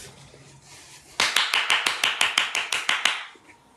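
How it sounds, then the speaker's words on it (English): A group claps in time, about a dozen loud, evenly spaced claps over a few seconds, after a quiet start with faint background sound. "Everybody clap your hands."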